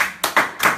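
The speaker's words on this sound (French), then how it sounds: "Donc je pense qu'il vaut mieux recommencer à applaudir." Hand clapping at a live gallery performance: three quick, sharp claps in a short, uneven burst, close and fairly loud, with nothing else around them.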